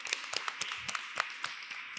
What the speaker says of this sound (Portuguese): uma salva de palmas da Coração Amarelo